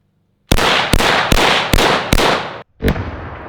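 An AK-47 fires 7.62x39 rounds at a 60 inch LED TV: five loud, sharp shots in an even rhythm, then a short gap and one more crack with a lingering tail.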